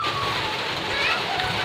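Mushrooms being washed in water for an Assamese-style fry, with steady sloshing and splashing close by over a dense wash of rain-like noise; no clear talk.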